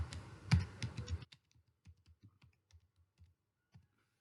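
Sparse, light key clicks from typing on a computer keyboard, irregularly spaced taps following a brief spoken phrase.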